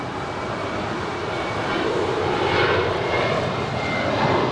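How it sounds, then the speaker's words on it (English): A five-year-old Sun Country Airlines Boeing 737-800 departs Los Angeles for Kailua-Kona, producing a continuous, broad jet engine roar that swells slightly as it goes. "That is Sun Country Airlines 8501 departing to Kailua, Kona. It's a 5-year-old 737-800."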